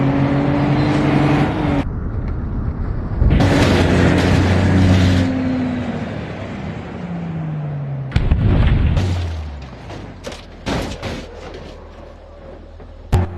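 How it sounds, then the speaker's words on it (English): A Ford Explorer overtakes a truck: a loud engine drone with rising and falling pitch, broken by heavy booming crash-like impacts and sharp bursts, then fading into a low rumble. "Ford Explorer."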